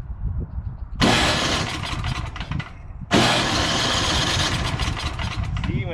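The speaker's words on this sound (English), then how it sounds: "See, my starter's working" An Ariens snow blower engine turns over on its electric starter, catches loudly and runs at a steady close roar, with a second surge as it picks up.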